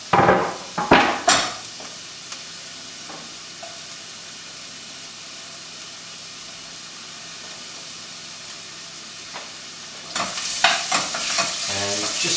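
Onion and garlic fry in melted coconut oil in a hot pan, a steady soft sizzle broken by sharp scrapes and clatters of stirring at the start and again near the end; no talk.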